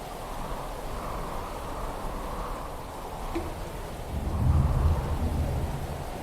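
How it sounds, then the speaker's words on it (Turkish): In the horror video game Anthology of Fear, a thunderstorm rumbles outside a shelter: steady rain hiss with a deep roll of thunder swelling near the end, fairly loud and without speech. "Fırtınanın dinmesini bekle diyor."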